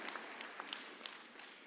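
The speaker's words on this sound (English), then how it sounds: "Let's give them another round of applause." Scattered clapping from a graduation ceremony audience follows a university choir's performance. The claps are light and sparse, a few sharp hits standing out over a quiet hall.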